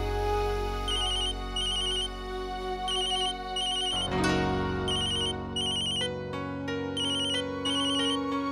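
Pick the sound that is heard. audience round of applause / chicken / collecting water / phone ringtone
phone ringtone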